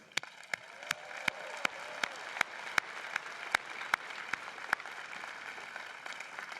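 A graduation audience applauds its parents and friends, the steady patter of clapping running under sharp, distinct individual claps that pop out at fairly regular intervals.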